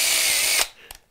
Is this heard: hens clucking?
no